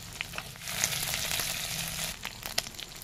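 Turmeric-coated fish frying in oil, a dense continuous sizzle with scattered sharp pops and spatters, close and steady throughout.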